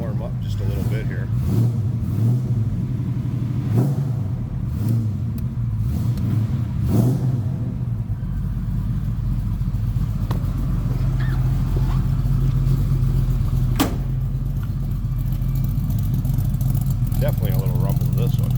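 A 1973 Ford Mustang convertible's engine idles and warms up close by, with a steady low rumble and several brief revs early on, while people talk over it.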